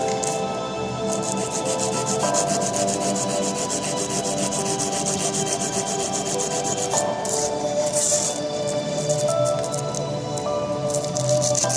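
Sandpaper rubs steadily against a wire being shaped for an improvised fountain pen, making a continuous close scratchy rasp that runs unbroken for about twelve seconds.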